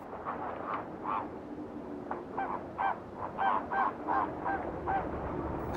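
Flamingos call at a fresh or salty lake, making a series of nasal honking, goose-like cries, some overlapping in quick bursts, moderately close and irregularly spaced with no talking.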